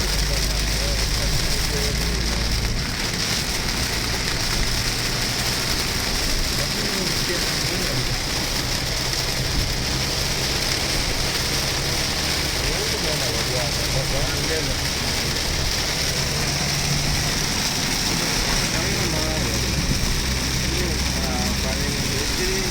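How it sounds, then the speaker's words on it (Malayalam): Heavy rain pelting a moving vehicle near Nagpur, a dense, loud, unbroken roar of drops drumming on the body with a low engine rumble underneath, steady for the whole stretch. "അടിപൊളി മഴ."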